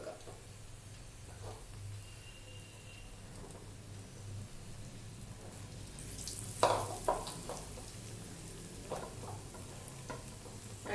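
Battered tapioca bhaji pieces frying in hot oil, giving a faint, steady sizzle with a few sharper pops and clinks partway through.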